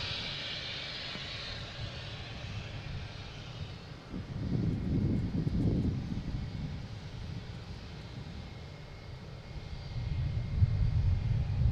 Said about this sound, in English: We got a Delta taking off, heading to Milwaukee in E175